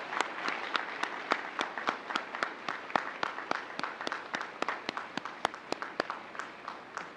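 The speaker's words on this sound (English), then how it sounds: "Let's give them a round of applause." Applause for military veterans standing at an Officer Candidate School graduation ceremony, a steady crowd clapping with distinct sharp claps popping out in a quick rhythm over a soft wash of hands, moderately distant and sustained throughout.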